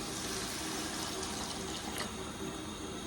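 Water pours steadily into a cooking pot for prawn biryani, a continuous faint splashing rush with no pauses.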